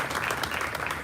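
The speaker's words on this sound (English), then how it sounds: "I think that calls for a big round of applause and appreciation." An audience applauds at an energy storage system unveiling: steady, dense clapping from many hands, close and even throughout.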